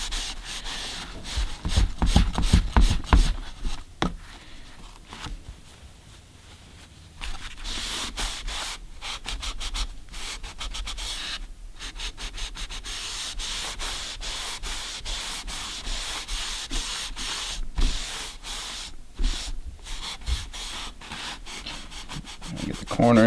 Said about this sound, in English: take a rag, rub it in